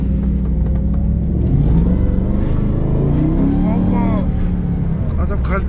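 Car engine revving under acceleration, a throaty rumble rising and falling in pitch several times, close and loud, with people talking over it.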